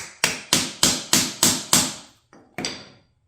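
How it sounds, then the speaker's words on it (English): Hammer strikes tapping a retainer onto the end of a rod while assembling a Peg Perego John Deere ride-on ground loader toy: six sharp, evenly spaced blows, then a softer tap and one more firm hit, close and clear with no talk. "tap the top with the hammer"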